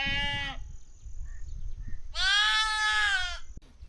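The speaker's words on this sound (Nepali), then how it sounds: "भेडाका यी पाठा चाहिँ माउलाई कुरेर बसेका छन् यी दुईटा" Sheep and lambs at a Himalayan high pasture in rainy weather give two clear, wavering bleats, a short one then a longer, louder one, close by over a low rumbling background.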